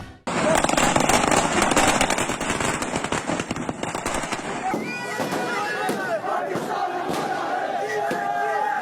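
Rapid bursts of firecrackers crackle loudly and continuously in India, set off to celebrate a Pakistan win, with a crowd shouting and cheering underneath.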